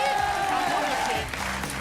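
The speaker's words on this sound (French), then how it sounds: "bravo, vous pouvez l'applaudir." Studio audience applause at a French television show, a short burst of clapping running under a voice and tonal background sound throughout.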